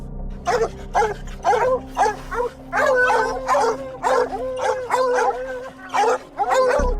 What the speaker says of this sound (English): the dogs that keep harassing it with loud and constant barking